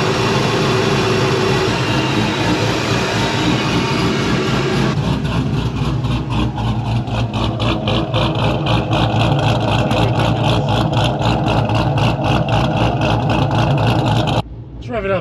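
A Pontiac GTO engine idles at low RPM, a loud, steady, close rumble with a faint rhythmic throb, its pitch shifting partway through as the idle is turned down before it drops away at the end.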